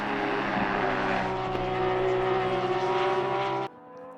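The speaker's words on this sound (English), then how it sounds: "driving the Porsche there" Porsche GT race car in Assetto Corsa Competizione at Silverstone, its engine a loud, steady high-revving drone with gear-change wobbles throughout, cutting off abruptly near the end.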